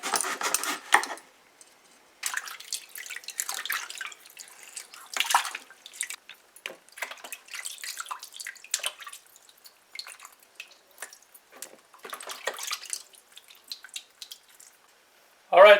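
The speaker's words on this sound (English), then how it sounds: "So now she's gonna wash the fish with some lemon juice." Butterfish being washed with lemon juice and water for a stew, with intermittent splashing and dripping close by in irregular bursts separated by short quiet gaps.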